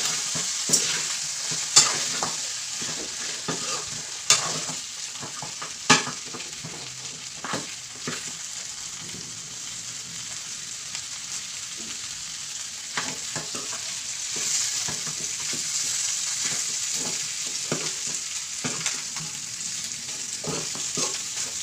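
Pork pata adobo sizzles in a pan and is stirred now and then, giving a steady bright frying hiss with sharp clacks and scrapes from the utensil, close up and with no voices.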